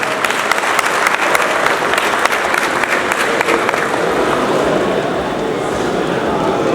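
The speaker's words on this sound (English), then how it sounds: "Let us all clap now" A large audience claps loudly and steadily for the whole stretch, a dense, even wash of many hands with no pause.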